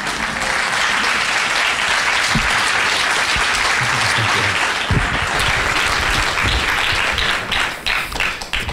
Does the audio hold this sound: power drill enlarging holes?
no